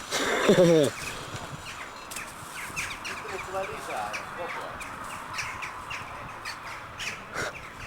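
Birds call outdoors, with a loud, harsh crow-like cawing burst at the start, then fainter scattered chirps and calls while people talk throughout.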